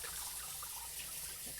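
Kale being rinsed under running water at a kitchen tap: a steady, soft rush of flowing water with light splashing, alone and continuous.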